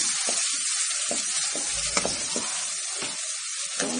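Freshly ground masala sautés in a pan for vadacurry, a close, continuous sizzle and crackle with repeated stirring scrapes and light taps, no voices.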